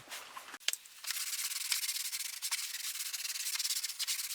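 Degreaser being scrubbed onto the fuel tank of a 1982 Suzuki RM250 dirt bike, a close, continuous rough brushing rub with short strokes after a couple of brief knocks, with no talking.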